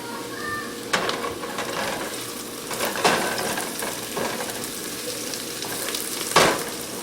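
Tomatoes dropped into a hot pan with bay leaves for a spicy Indian chicken curry, a steady close sizzle and frying hiss with a few stirring scrapes and clinks, no talking.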